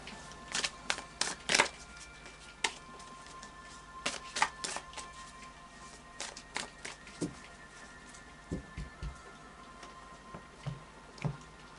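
Tarot cards being shuffled in several quick riffling bursts with sharp snaps between them, close up and fairly quiet, with no talking.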